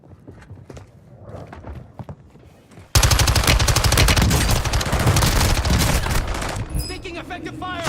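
Heavy automatic gunfire from the video game Warzone erupts loud and close after a quieter opening, sustained rapid bursts filling the rest, with a voice briefly heard early on.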